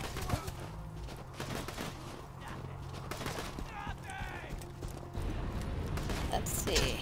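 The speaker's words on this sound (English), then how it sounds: "Whoa, who's shooting at me?" Gunfire erupts in the Borderlands 2 video game, with bursts of repeated shots and mechanical clatter over a busy layered soundscape. A voice talks over it.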